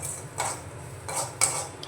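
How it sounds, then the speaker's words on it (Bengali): A spoon scrapes and clinks in a pan while roasted ground spice masala is stirred for chana dal puri filling, with a few separate close strokes and a sharp tap over a quiet background. "নাড়িয়ে মশলার সঙ্গে মিশিয়ে নেব।"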